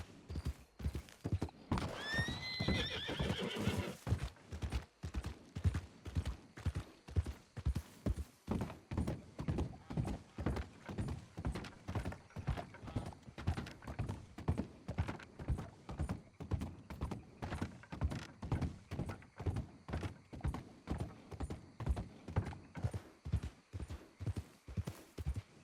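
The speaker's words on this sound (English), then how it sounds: "What is my horse doing?" Hooves clip-clop in a steady, loud rhythm throughout a video game horseback ride in the Wild West, with a sharp horse whinny near the start, a single voice speaking briefly at low volume.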